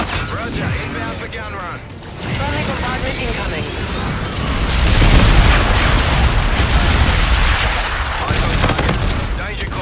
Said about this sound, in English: Roger, inbound for gun run. Friendly bombardment incoming.